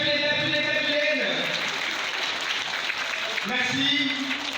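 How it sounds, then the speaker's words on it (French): Pupils clap together at an early-childhood week school event in Kebemer, a sustained patter of applause mixed with voices that rise above it. "Alors là, les élèves s'applaudissent."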